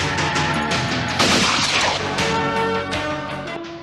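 Pistol shots fired at a target during shooting practice, several loud, sharp reports in quick succession that echo and blur together, with no talking.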